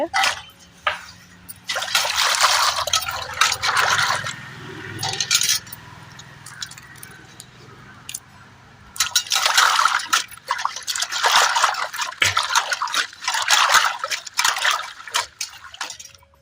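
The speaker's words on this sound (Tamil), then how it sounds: "பிரண்டையை நல்லா தண்ணியில் போட்டு கழுவி எடுத்துக்கலாங்க உரிக்கிறதுக்கு முன்னாடியே." Pirandai (adamant creeper) stems being washed in a bowl of water, with splashing, sloshing and clinking in two busy bursts separated by a quieter stretch of trickling, close and fairly loud with no talking.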